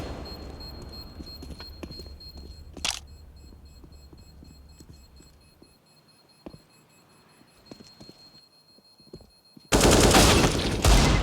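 Gunfire in Counter-Strike on the Mirage map during a pro match: a loud shot early on, a string of faint distant pops and taps, then a sudden loud sustained burst of shooting at the end.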